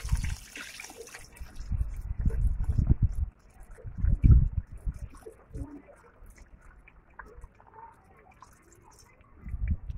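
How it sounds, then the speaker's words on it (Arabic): Water is poured onto a potted plant on a rooftop, making several short, fairly close splashing and trickling bursts separated by quieter gaps, with faint background noise. "طب احنا هنسقي ميه دلوقتي"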